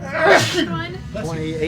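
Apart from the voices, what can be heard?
sneeze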